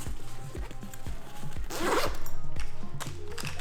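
A small zipper on a camera bag pouch is pulled in a rapid ratcheting run, close and crisp, with fabric rustling as it opens and closes.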